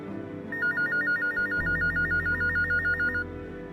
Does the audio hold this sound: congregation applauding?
no